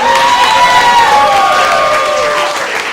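Children and audience cheering and clapping for a juggling magician at a show, loud and continuous, with shouting voices and a sustained tonal voice over the crowd that fades slightly at the end.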